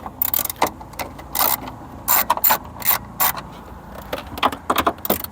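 A ratchet tool loosens bolts while removing the rear bumper of a BMW E82, giving a string of close, sharp clicking bursts with brief pauses between them.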